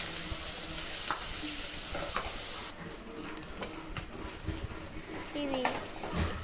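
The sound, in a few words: stirring turmeric into frying curry base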